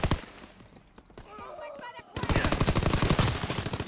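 Call of Duty WW2 gunfire: after a brief spoken exclamation, a dense burst of rapid, loud automatic shots erupts and continues steadily to the end.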